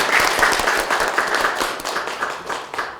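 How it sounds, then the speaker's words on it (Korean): A hall audience at a Korean political party's local government policy awards ceremony bursts into steady applause for the party leader, many hands clapping loudly and continuously for around three seconds. "이낙연 당대표님께 우리 감사한 박수 한번 해주시기 바랍니다."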